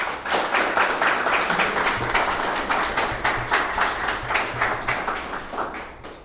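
Audience applause welcoming a notary speaker to a political talk, a steady patter of many hands clapping at moderate loudness for about six seconds, fading slightly toward the end with no talk over it.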